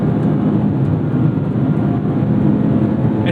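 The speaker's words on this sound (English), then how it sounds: "It's nice you can hear the engine a bit more here than in my car." Steady low engine drone and road rumble inside a Mazda MX-5 Miata ND3 while driving, continuous and fairly loud with no talking.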